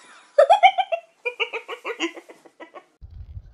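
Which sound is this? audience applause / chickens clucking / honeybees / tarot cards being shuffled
chickens clucking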